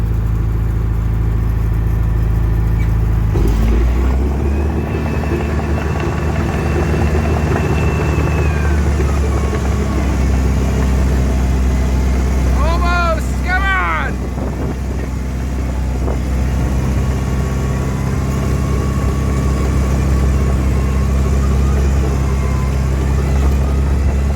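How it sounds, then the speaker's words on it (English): An old V4 engine labours in first gear while pushing through pond-digging material, a loud steady low engine drone that holds throughout, with a brief higher squealing strain near the middle and no talk. "Think the old V4 can push right through the middle of that?"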